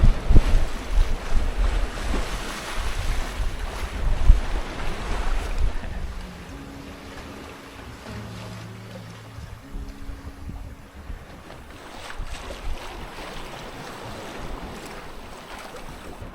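Low quartering ocean swells wash and rush around a cruising sailboat on the open Pacific, with steady wind noise buffeting the microphone, heavier at first and then calmer, plus faint low hums from the boat.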